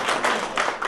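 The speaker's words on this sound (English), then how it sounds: "Round of applause, please." A few seconds of clapping at an agricultural meeting on potatoes in Presque Isle, Maine, as an audience welcomes a guest speaker, heard as a short burst of close, uneven hand claps that swell and fade within a second.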